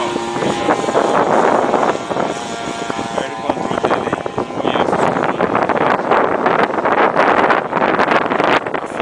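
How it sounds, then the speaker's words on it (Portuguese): Strong wind buffeting an outdoor microphone, a loud, continuous rumbling roar with gusty surges and occasional muffled voices underneath. "Tá forte demais esse vento"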